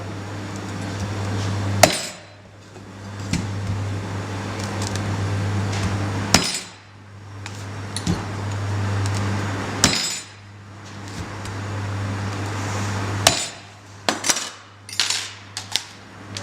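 A young coconut is worked open by going around its shell, giving a series of sharp, spaced knocks and taps over a steady low hum, with a quicker cluster of taps near the end.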